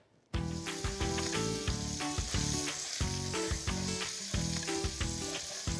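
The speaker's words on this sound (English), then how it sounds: "I'm gonna add my country sausage right to the rendered fat from the bacon." Country sausage dropped into rendered bacon fat in a pan, bursting into a loud, close, continuous sizzle that begins abruptly and crackles on with rhythmic pulsing spatters.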